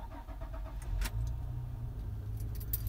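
Ignition key turned in a 2006 Honda Pilot, with keys jangling briefly before the engine cranks and catches, settling into a steady low idle close by.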